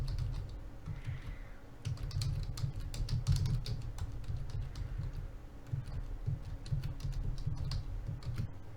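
Fingers tap steadily on a computer keyboard, a close, continuous run of light clicks and keystrokes with brief pauses, over a low background hum and no talking.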